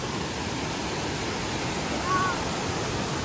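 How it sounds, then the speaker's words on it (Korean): A steady, full rush of water from a waterfall in the valley below a hilltop campsite deck, heard as a constant broadband roar without pause. "여기 밑에 계곡이 장난 아니야 폭포야 폭포"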